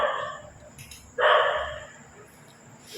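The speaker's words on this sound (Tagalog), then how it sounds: "Aso grabe." A dog barks in a dark, supposedly haunted school at night, a few sharp barks with a louder burst midway, fairly close over background murmur.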